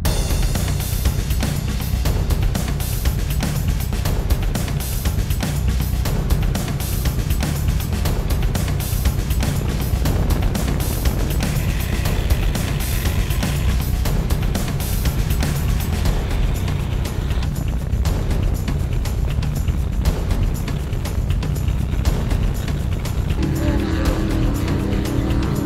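Offshore racing powerboats from the GEICO and Citron teams run neck and neck, their engines producing a loud continuous roar with wind and water rush that holds steady throughout the stretch.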